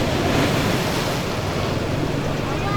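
Ocean waves surge and wash up on a beach in a continuous close roar, mixed with steady wind buffeting the microphone. No distinct individual breakers stand out from the dense, even wash.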